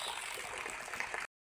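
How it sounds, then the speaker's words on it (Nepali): Rain falling outdoors makes a faint, even hiss for just over a second before cutting off abruptly. "पानी परिरहेको छ, देखेको छैन तर क्यामेरामा"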